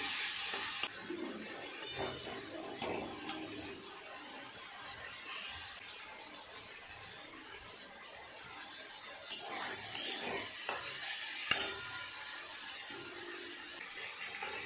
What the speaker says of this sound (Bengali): এইভাবে ভালো করে উল্টে পাল্টে নেড়ে চেড়ে মাছগুলো ঝুড়ো ঝুড়ো করে ভেজে নেব